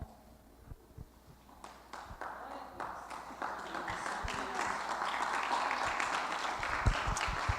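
A church class stands and applauds at the end of a lesson, the clapping starting sparse with a few scattered claps and swelling into steady, fairly close group applause that continues to the end.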